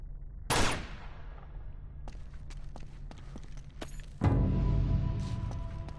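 Gunfire cracks out in the action video game Uncharted: one sharp close shot, then scattered lighter clicks and footsteps, followed by a heavy rumbling burst of impact or explosion, with no talking.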